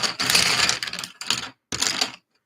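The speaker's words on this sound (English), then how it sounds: "If anyone wants ASMR sounds, me hunting through pencils is totally gonna give that to you." Close, crisp clattering and scraping as a hand rummages through a pile of hard Arrtx oil-based colored pencils, in busy bursts separated by short pauses.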